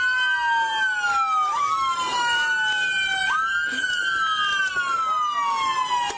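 A police car siren wails nearby at a police shooting scene, rising and falling in long sweeping cycles, loud and continuous, with faint voices underneath.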